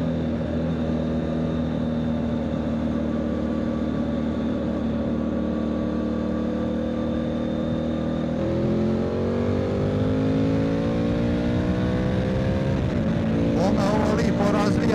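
A 2024 Triumph Tiger 900 GT Pro motorcycle engine pulls steadily on the road, a loud continuous drone rising in pitch as it accelerates, with heavy wind rush throughout.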